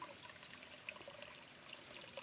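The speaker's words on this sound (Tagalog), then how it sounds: "may bukal guys, lalim ng bato" Spring water trickles out from beneath rocks in a faint, steady, gentle flow with no voices over it.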